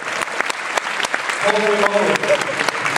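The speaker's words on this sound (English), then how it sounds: "please give them a round of applause" A convention panel audience gives a round of applause, steady crowd clapping with a voice talking over it partway through.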